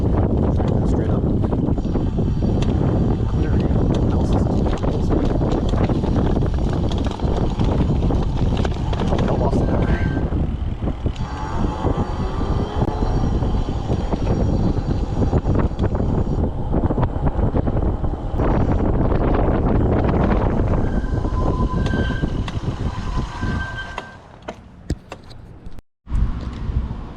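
Heavy wind buffets the microphone of a Billy Goat V2 electric bike climbing a steep hill, a loud, continuous roaring rush that dominates nearly the whole ride before briefly dropping away near the end.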